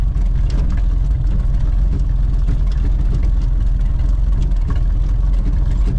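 A 1931 Ford Model A engine runs steadily up close, a loud, continuous low rumble with a constant idling throb and no voices.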